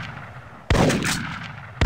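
A single sharp, loud gunshot in the hunting arcade game Big Buck Hunter Pro, with a short ringing tail, and the onset of a second shot cutting in at the very end.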